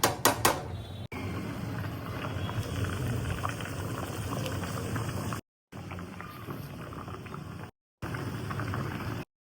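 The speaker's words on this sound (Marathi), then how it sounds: "उकली पण आलेली आहे मस्त छान उकली पण आलेली आहे" Fish head curry in the Agri style, made with jitada fish, bubbling and simmering steadily in a pot as it comes to a boil, a close, continuous gurgling broken by two short silent gaps.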